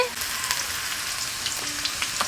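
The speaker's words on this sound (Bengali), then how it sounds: "গোটা আলুটাকে আমি এদিকে ভাজতে দিয়েছি" Whole baby potatoes fry in oil with salt and turmeric, a bright, steady sizzle with scattered crackles and pops, close and fairly loud.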